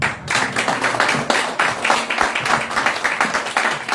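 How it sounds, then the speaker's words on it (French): A church congregation applauds at a revival service, with dense rhythmic clapping from many hands that carries steadily at a moderate distance, filling the room without pause. "Applaudissons le Seigneur,"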